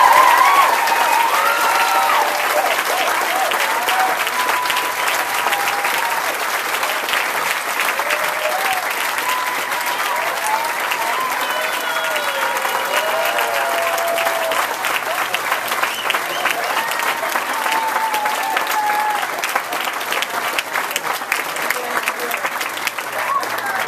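A graduation-ceremony audience applauds its graduates in a loud, dense, sustained round lasting the whole stretch, with a few raised voices and cheers riding over the steady clapping.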